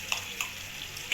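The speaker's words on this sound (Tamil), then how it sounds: "சேர்த்துட்டு நல்லா கிண்டி விடுவோம்" A ladle stirs rice upma with ghee in a hot pan, giving a steady sizzle and bubbling with three soft scraping strokes spaced evenly across the moment.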